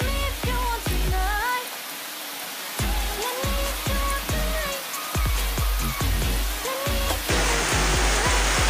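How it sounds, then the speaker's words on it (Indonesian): Hot oil poured over sambal produces a steady, hissing sizzle like light rain, continuing throughout with scattered clinks and a brief rise in crackling near the end. "kita siram dengan minyak panas ya"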